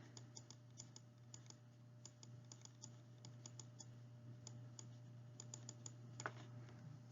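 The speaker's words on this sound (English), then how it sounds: "I just type that in my calculator" Fingers tap out a calculation on a calculator keypad, a run of small, quick, irregular clicks close by over a low steady hum, quiet and without any talking.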